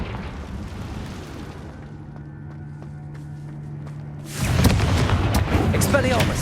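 A Confringo fire spell explodes in Hogwarts Legacy: a steady droning hum gives way to a sudden loud burst. It is followed by dense, crackling, roaring blast noise that carries on to the end.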